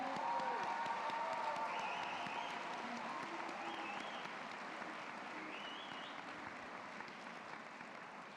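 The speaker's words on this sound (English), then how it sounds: "Please give yourselves a round of applause" A graduation audience applauding, dense sustained clapping from a large crowd that fades gradually over several seconds, with faint whoops and cheers scattered through it.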